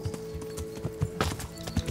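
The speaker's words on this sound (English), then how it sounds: "Let's just get on the horse." Horse hooves clip-clop steadily in Kingdom Come: Deliverance, with a rhythmic series of close thuds and a brief louder rustle midway over a low ambient hum.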